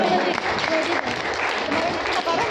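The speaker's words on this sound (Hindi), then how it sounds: "अपने लिए जोरदार तालियां बजाएं" An audience at a talk gives loud, sustained applause, a dense burst of clapping filling the whole stretch.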